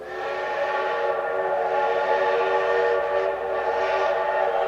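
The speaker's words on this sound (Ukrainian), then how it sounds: "Мороз пробіг у мене по шкірі, коли я почув сильний різкий свист." A loud, sustained whistle blares steadily for several seconds in a metro station, rich with layered tones, with no voices present.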